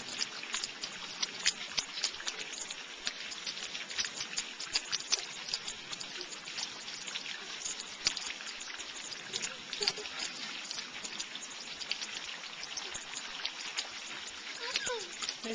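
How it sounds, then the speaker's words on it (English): Rain patters steadily and softly on a surface outdoors, a dense, even hiss of small drops with no pauses, while a voice speaks now and then. "This is the rain."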